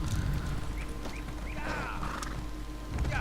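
A horse being ridden in The Elder Scrolls Online: continuous clip-clopping hooves over a steady background bed, with snorts and a whinny partway through.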